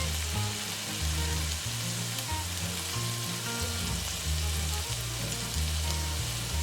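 Chopped onions dusted with a teaspoon of baking soda sizzle steadily in a pan for a leek and olive stew, a continuous close frying hiss over a low rumbling background, with no talking.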